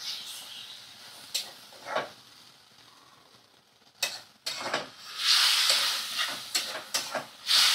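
Water poured into a hot pan of fried food bursts into loud hissing sizzle, with scattered pops and stirring scrapes earlier and steady spitting crackle near the end; no talk.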